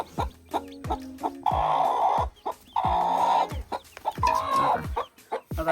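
A hen clucks repeatedly up close, short sharp clucks mixed with longer drawn-out squawking calls in uneven bursts, loud and alone with brief quiet gaps between.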